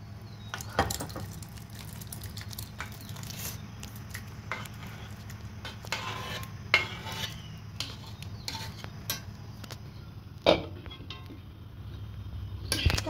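Mung and chana dal stirred in a pot, soft scraping and occasional clinks of a spoon against metal over a low background hum, fairly quiet with a couple of sharper knocks.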